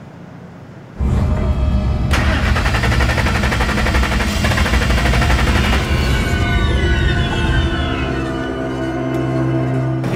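Ford Lightning pickup engine cranking and catching after a fuel pump change, bursting into a loud, rough, rapid-fire roar that runs steadily and eases slightly toward the end, with no speech.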